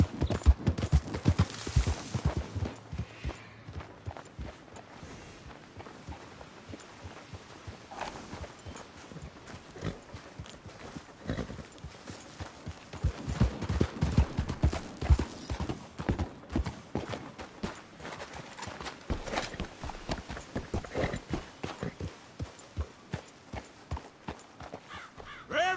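Horse hooves clip-clop in a steady walking rhythm in Red Dead Redemption 2, moderately close and fairly quiet, continuing throughout with occasional faint background sounds.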